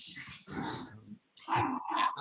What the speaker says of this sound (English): I've got a bad dog